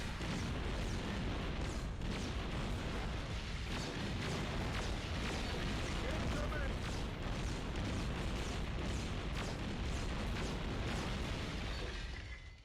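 Dense, sustained turret gunfire and explosions from the Terminator 3: Rise of the Machines video game roar continuously at high volume for about twelve seconds, with no talk over it.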